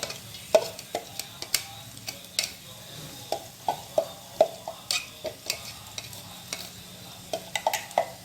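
Onion frying with ginger, garlic and chili paste for dhaba chicken sizzles under a steady hiss while a spoon scrapes and taps the pan in irregular, close stirring strokes.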